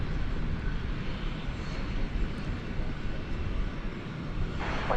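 An American Airlines Boeing 737-800 arriving from San Antonio touches down at DFW Airport at night, heard as a steady, broad jet roar that stays loud and continuous throughout with no voices.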